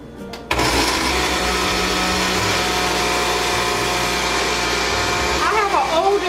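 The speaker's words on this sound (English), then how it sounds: "I have an older blender," An older blender mixes a batch containing coconut oil, starting abruptly and then holding a loud, steady whirring motor drone that shifts slightly in pitch near the end.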